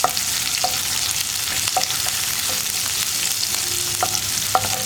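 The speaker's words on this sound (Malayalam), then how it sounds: "ഇതിൻ്റെ കൂടെ തന്നെ നമ്മൾ എടുത്ത് വെച്ചിരിക്കുന്ന പച്ചമുളകും വെളുത്തുള്ളിയും ഇത്രയും ചേർത്തിട്ട് ഒന്ന് വഴറ്റിയെടുക്കുക." Green chillies and garlic sautéing in a pan with cumin seeds for soya masala: a continuous bright sizzle broken by regular scraping stir strokes, close and fairly loud, with no voices.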